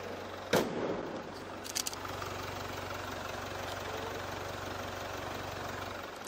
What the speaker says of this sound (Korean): 이 디젤 엔진 치고 정말 조용하고 정숙한 엔진 소음 만나보실 수가 있고요